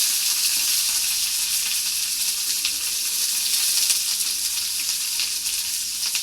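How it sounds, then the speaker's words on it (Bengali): Chopped onion sizzles steadily in a pan with garlic that has turned reddish, a constant bright hiss with no break and no voices, close and fairly loud. "রসুনগুলো একটু লালচে রঙের হয়ে আসার পরে এর মধ্যে কিন্তু পেঁয়াজ কুচি দিয়ে দেওয়া হয়েছে"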